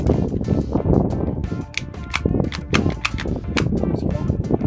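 A BB gun fires in a rapid string of sharp cracks, about a dozen shots at an uneven rhythm, close and loud over background noise.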